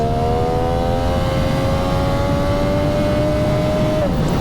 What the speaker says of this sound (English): that quick shifter is beautiful up in the revs